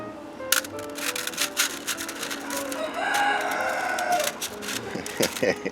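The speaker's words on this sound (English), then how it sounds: "Hear my rooster?" A rooster crows in the background, one drawn-out call partly masked by nearby clicking and tapping noises of rock tumbling work.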